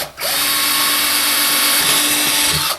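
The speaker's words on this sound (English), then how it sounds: "I'm just going to drill that" Power drill boring a hole through a DIY ice fishing sled, one steady high-pitched whine starting and stopping cleanly, close and loud with no talk.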